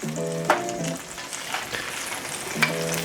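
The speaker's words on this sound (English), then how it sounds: "We're gonna add cheese straight into the pan." Cheese dropped straight into a hot pan for birria tacos, giving a close, even sizzle for about three seconds, with faint tonal hum in the background and a couple of light clicks.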